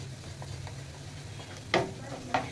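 Tomato paste goes into a hot pan for chicken lafafa paratha and is stirred, giving a soft, steady sizzle under low scraping. Two sharper scrapes of the spoon against the pan stand out near the end.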